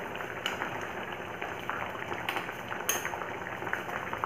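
Parwal pieces simmer in sugar syrup in a pan, giving a continuous soft bubbling and hissing with occasional light clinks of a utensil against the pan.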